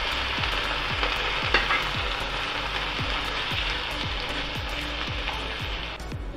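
Tomato puree sizzling in a pan with finely chopped capsicum for dhaba-style tawa paneer, a steady bright hiss under a repeating rhythmic tapping of stirring or scraping, close and fairly loud.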